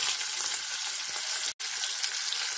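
Chopped onion sizzles in hot oil left from frying fish, a steady bright hiss close up, with a brief cut in the sound partway through before the sizzle resumes at the same level.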